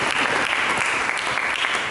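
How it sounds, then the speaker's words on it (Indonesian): A church congregation applauds loudly and steadily at a worship service, dense continuous clapping filling the space with no pauses. "Mari kita berikan tepuk tangan yang meriah bagi Yesus."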